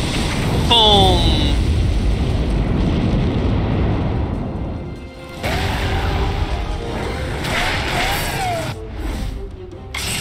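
A monster's explosive landing attack in Monster Hunter Stories 2, a loud booming crash with rumble that surges again mid-clip amid battle effects and game music, with people talking over it.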